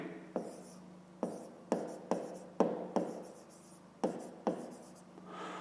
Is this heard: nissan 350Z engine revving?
no